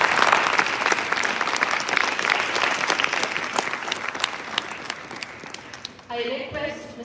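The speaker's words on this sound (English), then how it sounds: "Let us extend a hearty round of applause for this exceptional session." A school event audience gives sustained applause after a question-and-answer session, dense clapping that fades gradually before a speaker's voice takes over at the end.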